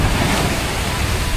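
Big ocean waves, about 8 feet high in strong wind, heard from a small fishing boat heading out to the fishing ground: a steady, loud wash of surf and wind roar with no break.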